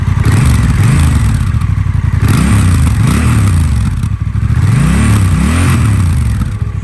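A Honda Rebel 1100 parallel-twin motorcycle engine revving loudly up close, its pitch swooping up and down in several sharp bursts over a rough idle.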